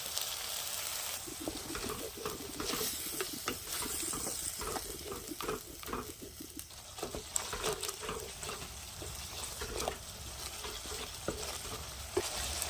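Spice masala of cumin, coriander and Kashmiri chilli powder with yogurt frying in a kadai, continuous sizzling and bubbling with repeated scraping stirs of a spoon against the pan, close and moderately loud, no talking.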